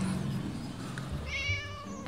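Cat meowing in the Scary Teacher 3D video game, a single drawn-out meow rising over a busy game background, fairly clear and close.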